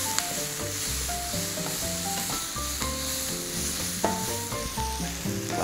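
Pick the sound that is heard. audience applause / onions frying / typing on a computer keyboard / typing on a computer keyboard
onions frying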